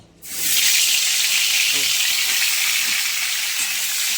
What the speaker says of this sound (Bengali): তেল গরম হয়ে গেছে এবার পটলটা আমি ভেজে নেব